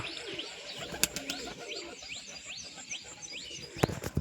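A group of pet pigeons after a bath makes a run of short rising chirping calls, evenly repeated, with a couple of sharp clacks and faint wing movement nearby, no talk.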